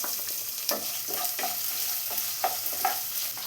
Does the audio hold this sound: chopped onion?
yes